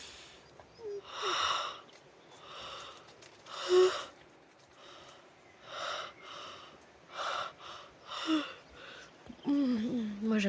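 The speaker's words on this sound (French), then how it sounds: "on va faire le bâillement avant d'échauffer la voix" A group yawning exercise during a laughter yoga session: repeated long, breathy yawns and sighing exhales rise and fall in waves of several bursts, fairly close, with a voiced glide at the end.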